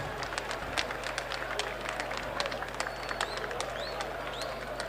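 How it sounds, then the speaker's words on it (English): Crowd applauding two boxers at the close of a bout at Bukom Boxing Arena during a fight night, a steady wash of clapping and scattered cheers with a low constant hum beneath. "Shall we give both boxers a big round of applause?"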